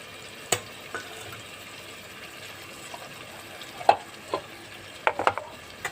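Spices (ginger, garlic, coriander, cumin and chilli) go into hot oil for a fish-roe curry, giving a soft steady sizzle with a few sharp clinks and scrapes of stirring near the end.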